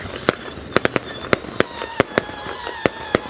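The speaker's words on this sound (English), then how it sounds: "We got fireworks going off in the background." Fireworks bursting behind the track at a Lucas Oil Late Model dirt race event, about a dozen sharp cracks and pops in irregular quick succession, distinct and moderately loud over a faint background hum.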